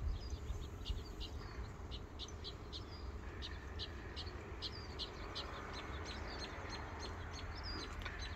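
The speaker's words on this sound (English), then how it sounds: "You hear all them squirrels chirping at you, Wiley?" Birds chirp repeatedly in short high calls over a steady outdoor background with a low rumble, the chirps continuing throughout.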